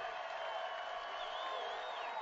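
A high school football stadium crowd cheers steadily on a big third down, a broad continuous roar at moderate distance with faint whistles and whoops running through it.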